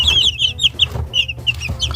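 Three-week-old chicks, white Silkies and Super Ogye, kept indoors on a home balcony, cheep and cluck in a busy overlapping chorus of high, short calls close by, over a low steady background rumble.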